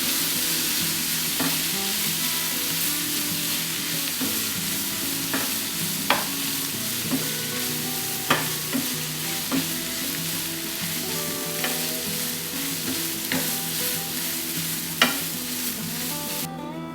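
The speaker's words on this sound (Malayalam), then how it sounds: "ഈ സോയാ സോസൊക്കെ എല്ലായിടത്തും ഒന്ന് ആവുന്നത് വരെ നന്നായി ഒന്ന് ഇളക്കി കൊടുക്കാം" Fried rice with vegetables, chicken and soy sauce is stirred in a pan, giving a continuous loud sizzle broken by regular scraping clacks of a spatula against the metal.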